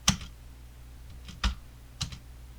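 Three sharp key presses on a computer keyboard, spaced about a second apart, close and crisp over a quiet room with no talking.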